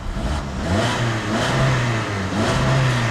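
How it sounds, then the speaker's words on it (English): A 2.4-liter four-cylinder gasoline direct-injection engine in a 2014 Hyundai Santa Fe Sport starts and revs up in a few smooth, loud swells, close by, with no speech. "put your foot on the brake, push the button to start the engine."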